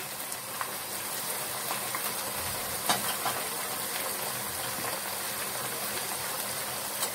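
Onion paste frying in hot oil for a chicken curry gives a steady, close sizzle throughout, with small pops and bubbling rising out of the hiss.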